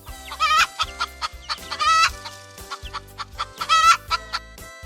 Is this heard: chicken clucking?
yes